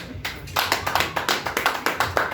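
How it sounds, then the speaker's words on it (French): A church congregation claps for Jesus in a steady, rhythmic beat, many hands striking together in even, loud pulses that fill the room. "Clap for Jesus"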